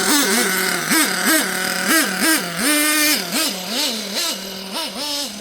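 A Hotbodies Dirt Demon nitro RC truck engine idles close by, with a loud buzzing two-stroke drone that rises and dips in quick, regular surges.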